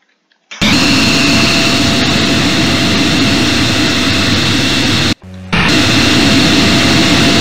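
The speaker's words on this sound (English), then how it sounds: "wait for this plane to pass" A jet airliner roars past in Microsoft Flight Simulator, a loud, steady engine rush that cuts in abruptly, drops out briefly near the end and then resumes just as strongly, with no voices.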